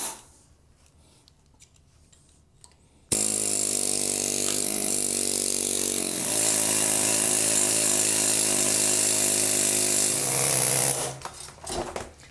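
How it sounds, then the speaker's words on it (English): A loud, continuous air hammer pulls up vinyl flooring, hammering away for several seconds after a quiet start, then cutting off abruptly near the end. "Look how easily the air hammer took up that vinyl flooring."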